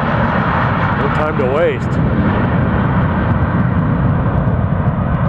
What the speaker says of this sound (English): getting up onto the runway and just opening the throttles, getting out of town